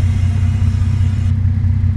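Bus engine in a US bus simulator video game, a low steady rumble with a faint throbbing pulse, close and continuous with no voices over it.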